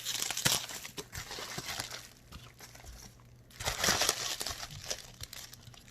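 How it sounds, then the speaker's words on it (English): Plastic packaging crinkles and crumples up close while being cut open during a craft supply unboxing, in two louder bursts separated by a quieter stretch, with no talking. "let me go ahead and cut this out"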